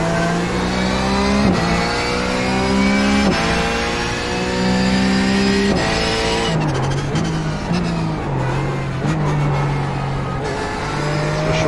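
A Porsche 911 GT3 racing in iRacing on the Nürburgring sprint circuit, its engine revving hard and climbing through repeated upshifts. The engine is loud and constant throughout, with no talk.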